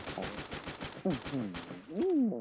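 Rapid gunshots from the video game Free Fire crackle in quick succession, with a voice sounding over and between the shots.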